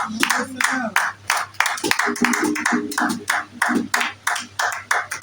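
Congregation at a Sunday worship service clapping loudly in a steady rhythmic beat, sharp regular claps under continuous singing and voices.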